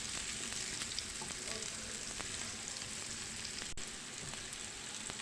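Onions sautéing in a pan, a soft steady sizzle with faint stirring scrapes, quiet and continuous throughout.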